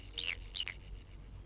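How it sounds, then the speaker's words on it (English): Eagle call sound effect played alone: two quick, shrill, high cries in close succession, clear and fairly close, followed by quiet. "I'm going to solo it so we only listen to the eagle call"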